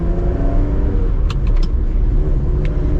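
A deep, rumbling Ferrari 360 V8 with a gated manual burbles steadily from inside the moving car, low and throaty, with faint clicks and no speech.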